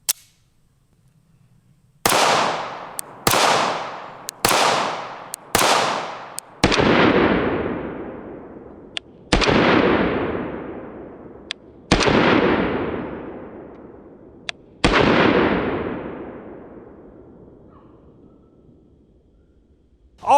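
Shots from a 9mm carry pistol, ported and unported, fired outdoors: about nine sharp loud reports, a quick string of four then slower single shots, each with a long echoing decay.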